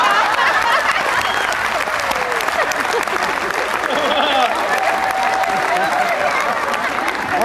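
An audience claps in a dense, steady wave of applause that lasts throughout, with a speaker's voice talking over it.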